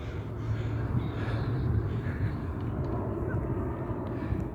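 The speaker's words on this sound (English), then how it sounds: "you can hear the sounds of Boeing and various other aircrafts" Boeing and other aircraft flying over Seattle, a steady broad roar of distant jet engine noise that holds evenly throughout, low and rumbling, with faint bird calls above it.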